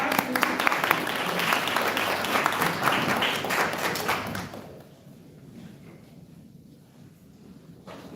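Audience applause at a conference presentation, with many hands clapping loudly and steadily before dying away after a few seconds into a quiet room with faint shuffling.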